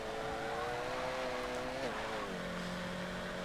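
A Renault Clio is driven hard on a track, its engine droning steadily and shifting pitch as the front tire struggles for grip, heard from inside the car with a person talking faintly.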